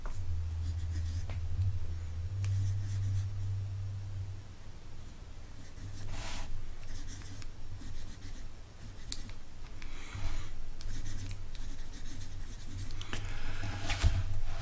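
Quiet scratchy fountain pen strokes on Tomoe River paper, close up, in short bursts with pauses, over a low steady hum.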